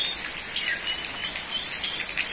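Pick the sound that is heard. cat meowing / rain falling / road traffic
rain falling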